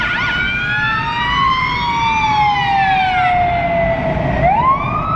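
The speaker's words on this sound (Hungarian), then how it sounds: "Hallgassuk meg itt, milyen a másik sziréna." Emergency vehicle siren wailing steadily from a car on a Budapest street, a loud sweeping tone that glides slowly downward and then rises again, over low traffic rumble with no talk.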